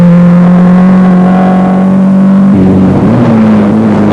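Toyota rally car on an open forest road during the 1996 Snowline Rally at Ohakune, its engine droning loud and near, then shifting pitch as it revs and passes by.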